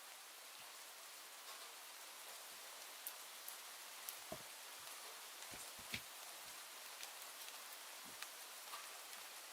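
Steady rain falling, an even hiss of drops with scattered louder taps and splats on a nearby surface, continuous and fairly soft throughout.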